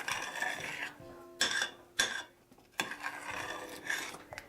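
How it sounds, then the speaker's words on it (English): Macaroni is stirred with shredded cheese until the cheese melts. The stirring comes as a series of close scraping, rasping strokes against the pot with short pauses between them, and no one speaks. "you just stir that until the cheese melts"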